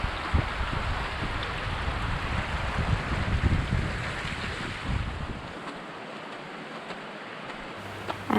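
Running water rinsing off a hiker in the Samaria Gorge, Crete, a steady close broadband splash and rush that drops away partway through, leaving quieter hiss.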